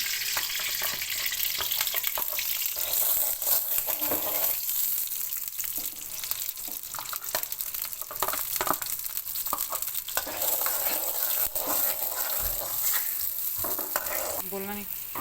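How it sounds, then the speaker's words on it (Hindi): Ghee and butter are stirred together in a hot kadai over a low flame for mutton shinwari, giving a steady sizzle with frequent scraping and stirring strokes throughout and no talking. "तो मैं घी और मक्खन मिक्स कर रहा हूँ।"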